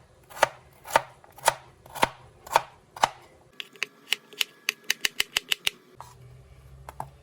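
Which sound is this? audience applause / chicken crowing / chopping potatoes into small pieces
chopping potatoes into small pieces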